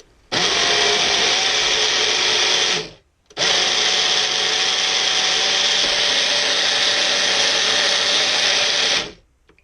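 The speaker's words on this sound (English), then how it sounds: "Alright guys, so let's blend." A kitchen blender whirs loudly, breaking up tomatoes for shrimp cocktail sauce in two sustained runs. A short stop separates them, and the second run is longer before the motor cuts out.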